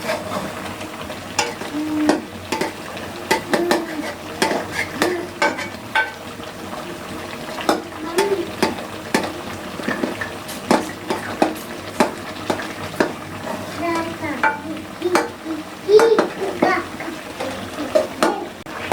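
Tomato paste for chicken makhni is stirred in a karahi, with a spoon scraping and tapping in frequent light strokes over a soft, continuous bubbling sizzle throughout.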